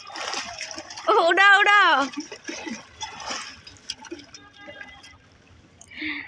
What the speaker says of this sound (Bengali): মহারাজ ডুব দিতেছে এখন।